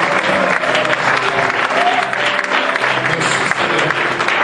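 A church congregation applauds to acclaim Jesus, a sustained, dense wall of clapping from many hands with a murmur of voices underneath.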